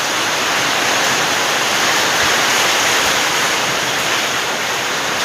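Heavy rain falling hard and steadily, a loud, dense, unbroken hiss filling the whole span with no pauses and no voices.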